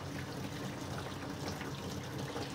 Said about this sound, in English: This is, hot water coming straight out of the thing